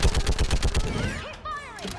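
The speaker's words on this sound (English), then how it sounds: "Keep firing!" Rapid bursts of gunfire in the video game Mass Effect 3, a quick run of loud, evenly spaced shots for over a second, then fading into whooshing and whistling effects.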